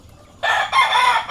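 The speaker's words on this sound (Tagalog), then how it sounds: "itong manok na to, galing po yan kay Sir Bibo Enriquez." A class A banded gamefowl rooster crows once nearby, a loud, clear call after a brief quiet start, heard alone with no talk.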